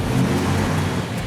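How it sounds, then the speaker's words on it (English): A 1958 Plymouth Fury with a 350 cubic inch V8 and dual four-barrel carburetors rumbles loudly up close, its low, throaty engine note sustained and steady through a short burst. "1958 Plymouth Fury, 350 cubic inch, dual 4."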